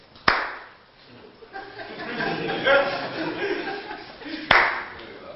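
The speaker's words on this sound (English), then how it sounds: "clap in public really loud for no reason" Two sharp, loud hand claps ring out a few seconds apart, with murmured talk and chuckling from people in between.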